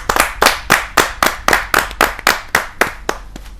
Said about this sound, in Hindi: आप जोरदार तालियों से उनका अभिनंदन कीजिए